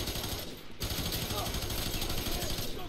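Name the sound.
gunfire from the video game F.E.A.R. 3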